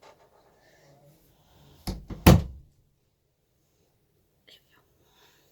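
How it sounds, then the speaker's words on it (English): A house door is banged shut, giving two heavy thuds close together that stand out against a near-silent indoor room, with faint breathy sounds around them. "And they're banging the door shut,"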